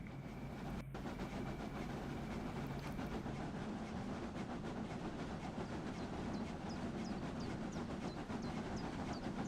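A steam train on the Brocken meter-gauge narrow-gauge railway in Germany, in Train Sim Classic, gives a steady rolling rumble with rhythmic rail clicks, a soft hiss and faint squeals toward the end.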